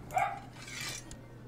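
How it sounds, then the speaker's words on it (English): A dog barks off in the background, a short, moderately faint burst of yips standing out from low room hum. "she's barking a lot"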